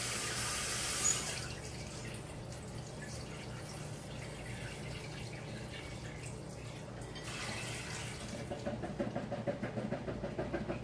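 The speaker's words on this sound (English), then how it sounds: "they got this nifty little hole in the bottom of them, so you can just rinse it in the bucket" Water sloshes and trickles as produce is rinsed in a bucket with a hole in the bottom, a steady soft running-water sound with faint splashes near the end, fairly quiet and close.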